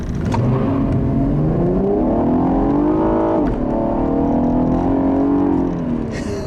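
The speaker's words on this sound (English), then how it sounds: "it's the way that V6 makes that nice grunty noise" A 2015 Cadillac ATS Coupe with a 3.6-litre V6 accelerating hard, its gruff engine note climbing steadily in pitch, briefly dipping at a gear change, then rising again, loud and close with no voices.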